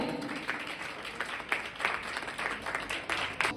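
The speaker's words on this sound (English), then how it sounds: "Please give him a round of applause for Palak." An audience at an English-speaking academy competition applauds a student's speech performance, with a brief, moderate round of clapping in a reverberant hall and a few louder individual claps.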